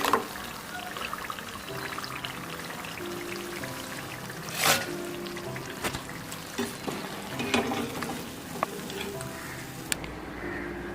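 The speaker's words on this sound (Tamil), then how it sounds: "நல்லா எண்ணெயை வடிகட்டி எடுத்துக்கோங்க." Fried rice flour kurkure snacks are lifted and drained of oil, giving soft trickling and dripping with light scraping clinks. The sound is close and fairly quiet, with no talking.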